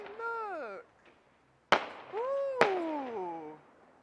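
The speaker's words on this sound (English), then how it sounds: "I can actually hear some fireworks now" Bonfire Night fireworks burst with two sharp, separate bangs, fairly distant, between sliding, wavering tones and people's excited exclamations.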